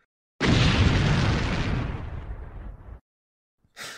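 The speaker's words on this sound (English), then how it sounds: "Super Mario 64 explosion sound effect." A single booming Super Mario 64 explosion sound effect bursts out loudly and decays over a couple of seconds, followed by a short second burst of noise.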